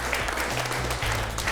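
Applause from a studio audience at a televised prize show, a brief continuous patter of clapping over a low steady hum for under two seconds.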